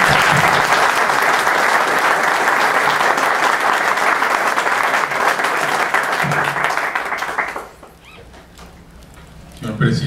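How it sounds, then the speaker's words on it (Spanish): An indoor audience at a formal induction ceremony gives loud, sustained applause, which stops abruptly near the end. A voice speaks faintly under the clapping. "pido un aplauso"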